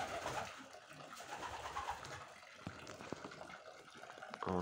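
A male owlet pigeon coos softly in a loft, giving low, rolling calls over faint background noise and some light trickling sounds.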